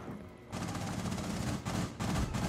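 Sustained rapid gunfire from a firefight in Tom Clancy's Rainbow Six Siege, a dense near continuous burst of shots with two brief pauses, loud and close, with no talking.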